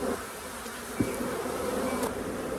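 Honey bees from an opened feral hive, a dense, steady buzzing swarm close by, continuous and fairly loud with no voices.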